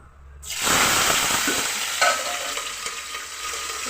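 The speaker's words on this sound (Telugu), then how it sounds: "జీలకర్ర కొద్దిగా వేగిన తర్వాత ఇప్పుడు పచ్చిమిర్చి అయితే వేస్తున్నానండి" Green chillies hitting hot oil with cumin, bursting into a sudden loud sizzle after a brief quiet start, then spluttering steadily with a few pops.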